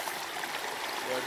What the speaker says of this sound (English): Some water running out, huh?